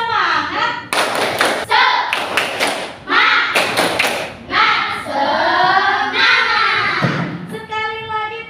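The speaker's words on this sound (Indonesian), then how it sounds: "Sekarang kita tepuk semangat supaya lebih semangat lagi." A primary school class performs a rhythmic 'tepuk semangat' clapping routine, with sharp bursts of group hand claps and thumps mixed with children's chanting voices, loud and close.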